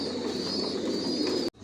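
Original Johnson line racer pigeons coo in a loft, a brief continuous low murmur from several birds nearby that cuts off abruptly near the end.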